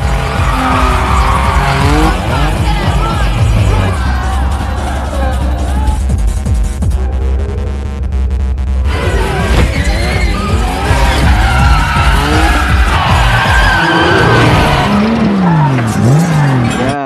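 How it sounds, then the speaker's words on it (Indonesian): A car drifting through a tight space, loud screeching tire squeal and engine roar running almost continuously, rising and falling as the car swings back and forth, close and dominant. "Terlihat bagaimana mahirnya Dike meliuk-liukan mobilnya di tempat sempit tersebut"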